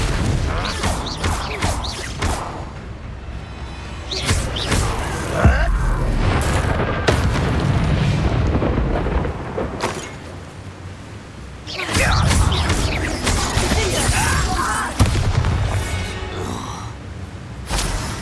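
Confringo fire spell explosions in the Hogwarts Legacy video game, loud repeated blasts and crashing booms in dense combat bursts with a brief quieter lull midway.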